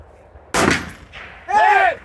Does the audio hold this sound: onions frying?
no